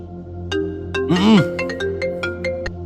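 Mobile phone ringtone from repeated incoming calls, a short melodic electronic tune with tonal blips and a warbling phrase, loud and close over a faint background.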